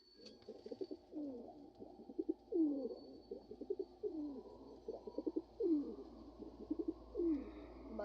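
Pigeons coo close by in soft, repeated rolling calls, phrase after phrase in an uneven rhythm over a quiet low background hum.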